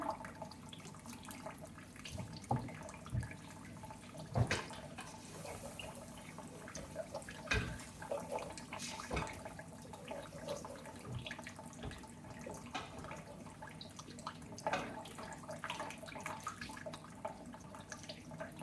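Water runs steadily from a tap, with irregular splashes and drips throughout and no one speaking.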